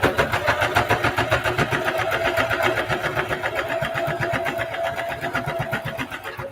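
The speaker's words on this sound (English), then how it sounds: "now I'm sewing the second side of the strap, but with it connected to the bottom" A sewing machine stitches the second side of a duffle bag strap joined to the bag bottom. It runs in a fast, steady mechanical rhythm throughout, loud and close, with no speech.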